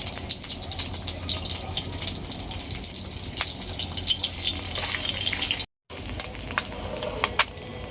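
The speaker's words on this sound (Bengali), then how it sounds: "এইভাবে সব ডিমগুলোই ভেজে নেব।" Egg-coated lote fish fry in hot oil, a steady crackling sizzle with bright spitting pops that holds at moderate loudness from start to end, broken only by a very short gap.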